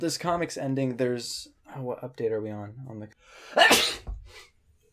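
A single sharp sneeze bursts out near the end of a relaxed conversation between podcast hosts, following several seconds of talking.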